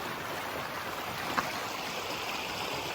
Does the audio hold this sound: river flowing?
yes